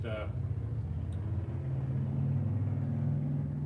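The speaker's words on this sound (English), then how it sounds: "Harley Davidson just went by" A Harley-Davidson motorcycle rolls past on a road, its low engine rumble swelling as it nears and holding steady, heard from outside a garage.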